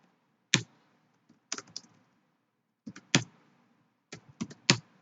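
Quiet bursts of keystrokes on a computer keyboard, three or four short clusters of clicks separated by pauses, close and alone.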